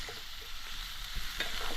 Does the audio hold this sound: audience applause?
no